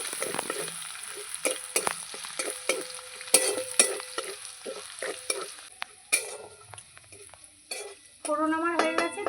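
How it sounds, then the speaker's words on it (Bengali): Ginger sizzles in hot oil as a tempering for mung dal while a utensil stirs, scraping and clinking against the pan in irregular strokes over a soft continuous fry. "এবার আদা ফোড়ন দেব ভালো করে নেড়ে চেড়ে নেব"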